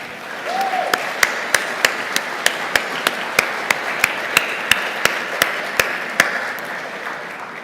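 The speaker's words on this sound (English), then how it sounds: "Let's give Susan another round of applause." Applause at a charity gala for an honoree, a broad wash of crowd clapping underneath a regular series of sharp, evenly spaced tapping clicks, with a brief tonal chirp near the start.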